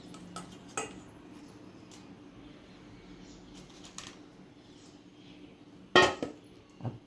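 A grater and metal utensils clink and scrape in a home kitchen while pakoda is being made, with sparse light taps and one sharper clatter near the end, fairly quiet overall.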